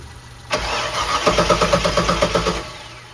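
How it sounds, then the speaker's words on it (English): An Impala's engine cranks over with a rapid, rhythmic chugging from the starter, close and loud, for about two seconds before stopping. "I'm gonna try to start the car again, or turn the car over"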